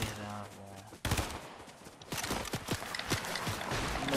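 Rapid gunfire from Fortnite gameplay, bursts of sharp shots crackling loudly after a short pause, with a voice talking over parts of it.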